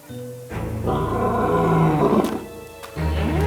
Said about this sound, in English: The lion sounds as though he is in pain.